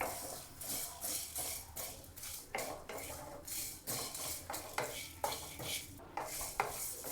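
A spoon scrapes and clatters rhythmically against a pan as spices are stirred and roasted for paneer pepper dry fry, with a faint sizzle beneath the repeated close metallic strokes.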